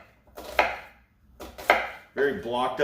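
A knife chops onion into even blocks on a board for a Mulligan hobo stew, with two short bursts of close, sharp cutting strokes followed by a denser run of chopping.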